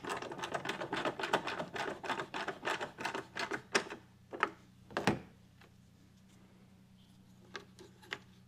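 Screws being snugged back up by hand on a car's driver's side panel while fitting a trailer plug, heard as a series of quick, close clicking strokes in a steady rhythm. They slow to a few scattered clicks, then go quiet.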